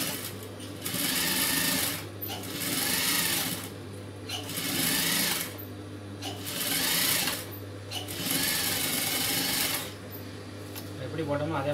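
A sewing machine runs in steady bursts while stitching a lining blouse, its rapid mechanical whir and needle clatter starting and stopping every couple of seconds, close and loud.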